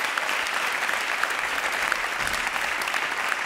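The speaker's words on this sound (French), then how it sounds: "Je crois qu'on peut l'applaudir" Steady audience applause at a closing session of a cultural forum in Bordeaux, dense even clapping from a large crowd sustained throughout without pauses.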